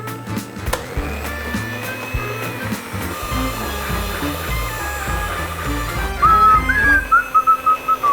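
A kitchen mixing machine labours through thick dough, its motor droning loudly with a shifting, straining whine and rhythmic thumping that grows choppier toward the end.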